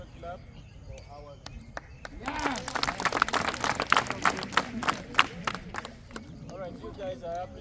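Group clapping breaks out near the close of a long group event, swelling into a burst of many hands with cheers and voices over it, then tapering off.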